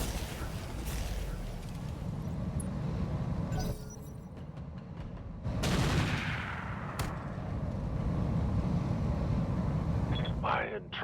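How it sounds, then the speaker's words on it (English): Mech weapons fire and explosions in the RogueTech mod of the BattleTech game, dense rumbling blasts and crackling bursts continuing throughout with sharper zaps near the end, loud and close. "Keep the laser fire going."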